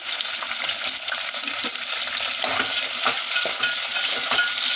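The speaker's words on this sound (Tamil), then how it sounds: "இப்போ நம்ம சின்ன வெங்காயம் சேர்த்துடலாம்" Small onions and green chillies sauté in oil for a biryani, making a loud, close, constant sizzle dotted with light metallic clinks from stirring; no one speaks.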